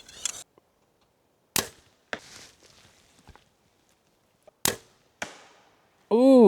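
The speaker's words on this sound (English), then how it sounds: "Ooh, that was an arrow." Arrows loosed from a bow by an archer in a saddle-hunting setup 35 feet up a tree give several sharp, isolated snaps and thwacks with quiet gaps between them, ending on a louder burst of rising and falling tones.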